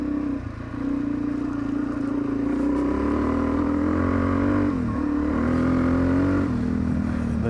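Motorcycle riding along a road, its engine droning steadily and revving up and down slightly, with wind and road noise around it and no voices.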